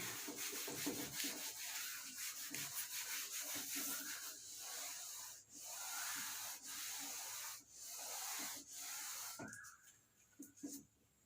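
Steady scrubbing as writing is rubbed off a classroom board, continuous rough rubbing strokes with brief pauses, close and fairly quiet.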